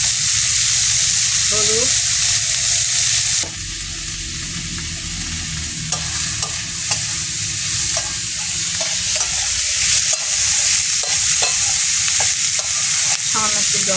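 Garlic fries in oil in a pan for a fish curry, giving a loud, steady sizzle over the whole stretch. A spoon stirs and scrapes now and then, and someone speaks briefly.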